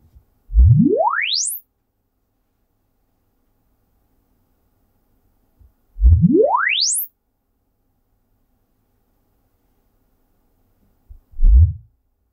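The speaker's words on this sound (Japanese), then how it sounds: "今度はステレオ2チャンネルプラスサブウーファーで測定したのでスイープ音が3回流れましたね" Three rising sine sweeps from low to high pitch from Genelec stereo speakers and subwoofer during GLM calibration, two long ones followed by a short low burst, separated by silence, clean and loud.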